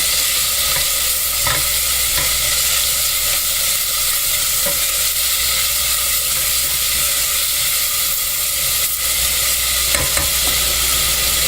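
Strips of cut bacon fry in a pan for soup, giving a steady, dense sizzle throughout with occasional stirring scrapes and pops, fairly loud and with no talking.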